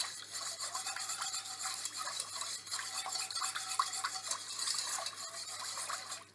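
Cream and butter are stirred together for galaktoboureko, giving a steady, continuous scraping and swishing of a utensil against the pot, close up and with no voices.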